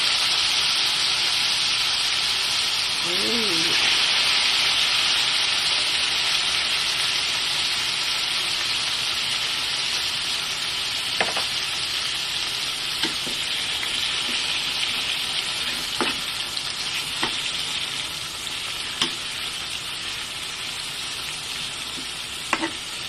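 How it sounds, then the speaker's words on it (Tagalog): Marinated beef deep frying in a pan for a creamy beef with mushrooms dish, a steady loud sizzle with occasional sharp pops and crackles rising above the bubbling oil, with no talking. "Medyo i-deep fry lang natin yung beef."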